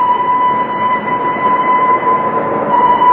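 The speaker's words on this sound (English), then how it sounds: "I hope he's on this train, Uncle Flax" A train arriving, used as a sound effect in a radio drama. A loud, steady rumble of rail cars carries a sustained high whistle-like tone through it, and no one speaks.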